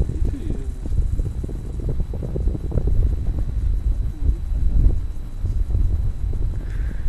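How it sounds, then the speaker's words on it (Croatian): Rough, buffeting wind rumble hitting the microphone throughout on a narrow mountain ridge trail on Durmitor, with faint voices talking underneath. "Koliko duva vjetar da imam i kameru."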